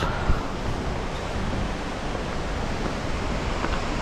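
Steady broadband rushing water roars close by, a dense constant wash of sound from a large waterfall at Yosemite's Vernal and Nevada Falls, with mist in the air and no voices.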